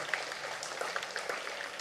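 Scattered clapping from students at a school reopening event in Tamil Nadu, with a few separate claps over a low murmur of room noise, fairly faint and brief.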